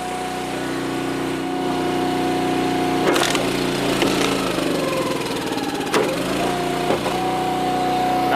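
An Eastonmade 12-22 log splitter idles steadily, then a hard maple round with knots cracks and splinters under the wedge, loud snapping and creaking bursts over the engine drone, with no talk.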